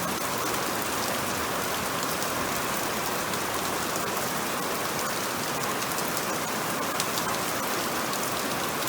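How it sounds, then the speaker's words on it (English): Steady rain falls on open ground, a dense, even hiss that holds at the same loudness throughout with no pauses and no voices. "Yeah, rain."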